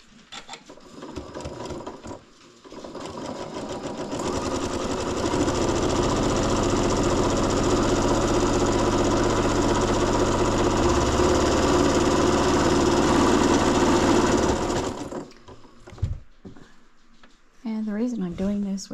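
A sewing machine stitches fabric while a quilt is assembled, running steady and loud for about ten seconds with a dense mechanical whir, then stopping, with a few handling noises before and after.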